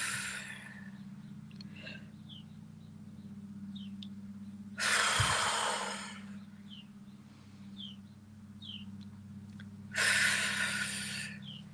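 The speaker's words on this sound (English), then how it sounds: "let's take 3 deep breaths and exhale with your mouth open" Two deep breaths are let out through an open mouth, each a loud, breathy rush about five seconds apart. A low steady hum runs underneath, with faint small sounds between the exhales.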